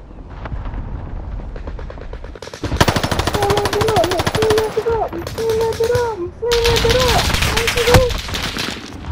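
Sustained, loud automatic gunfire in Call of Duty: Modern Warfare, with dense rapid bursts, whistling tones and a booming impact, while voices talk over the battle.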